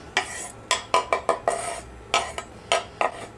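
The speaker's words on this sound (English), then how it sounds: "In go the onions." Onions going into a pan to sauté for a meat sauce, heard as a quick run of sharp clatters and scrapes of utensil against cookware, close and distinct, with no talking.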